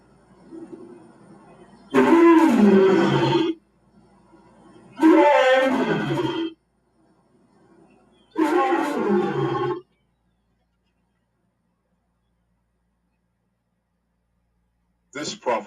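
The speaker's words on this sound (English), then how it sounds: "The lion's majestic roar was designed by Yahweh" A lion roars in three loud, drawn-out bursts of about a second and a half each, separated by pauses, followed by a short final burst after a long silence.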